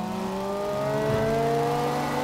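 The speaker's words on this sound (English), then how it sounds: "just love the sound of this car compared to the sound of the 360" A Ferrari engine in Forza Horizon 2 holds a steady, loud drone that rises gently as it revs, alone with no talk.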